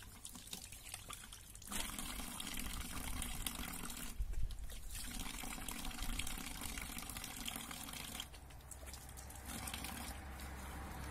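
Water runs steadily from a boiler tap, a faint, continuous hissing trickle that swells and eases in a few stretches over about eleven seconds, with nothing else audible.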